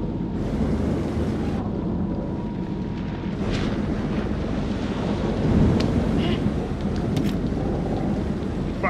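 A thunderstorm with rain rages in the horror video game Man of Medan, a heavy continuous roar of wind and downpour with rumbling thunder and brief sharp cracks, loud and unbroken, at sea aboard a boat.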